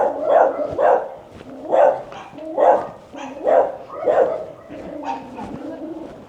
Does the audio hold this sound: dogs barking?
yes